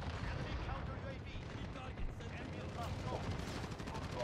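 Sustained heavy automatic gunfire from a VTOL aircraft killstreak in Modern Warfare, a dense continuous rattle of shots and blasts filling the scene at steady loudness from start to finish.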